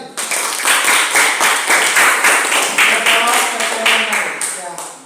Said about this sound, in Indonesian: Kita berikan aplaus untuk dua orang ini.